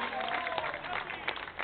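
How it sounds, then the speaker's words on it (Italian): An outdoor crowd at a live band performance bursts into loud, dense applause with cheering voices mixed in, continuous and close throughout. "facciamo un applauso"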